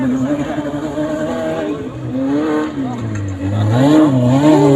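A race car drifts around a racing track at a championship event in Meghalaya, India, its engine revving and wavering loudly while the tires squeal, and voices are heard beneath.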